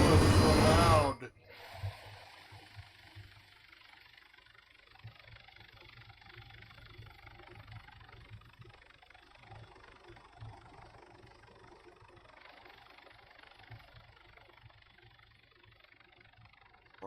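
A car engine idles steadily in an enclosed space, a low, faint rumble that continues after a loud burst of noise at the start, with brief voices over it.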